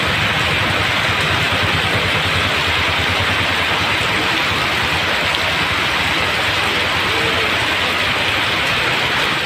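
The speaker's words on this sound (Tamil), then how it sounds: "நீலகிரி மாவட்டம் பந்தலூர் அதன் சுற்றுவட்டார பகுதிகளில் 1 மணி நேரத்திற்கு மேலாக மழை வெளுத்து" Heavy rain pours in Pandalur in the Nilgiris district, a loud, dense, unbroken hiss of downpour that stays constant throughout with nothing else standing out.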